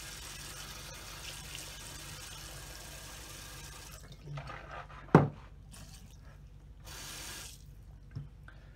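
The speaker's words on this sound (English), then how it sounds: "I'll rinse my mouth." Tap water runs steadily into a bathroom sink while someone rinses their mouth after brushing teeth, a faint continuous stream with one sharp click midway and a few soft splashes near the end.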